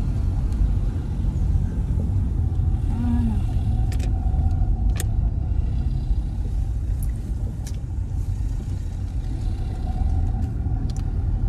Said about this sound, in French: On accélère et on passe la vitesse.